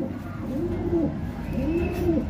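A racing pigeon gives two soft, low coos about a second apart, fairly faint against a steady background hum, with no speech.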